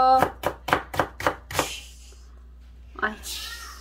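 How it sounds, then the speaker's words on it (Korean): Six quick, sharp knife chops strike a cutting board in an even rhythm, followed by a pause and a brief voice. "엄마 칼질 중입니다"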